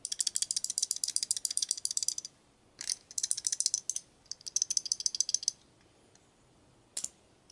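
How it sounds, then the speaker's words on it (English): A CRKT Pazoda folding knife with vertical and horizontal blade play makes fast, bright, ratchet-like rattling in close bursts, separated by short pauses and a few single clicks. "I got vertical play, and I got horizontal play, and this is the noise that I'm hearing that I can't remedy."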